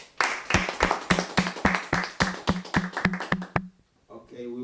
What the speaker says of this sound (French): Can we clap to the Lord?